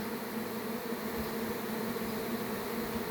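A honeybee swarm that has returned to its hive makes a steady, even buzzing hum, faint and unbroken from start to end with no voices.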